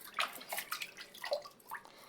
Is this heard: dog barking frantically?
no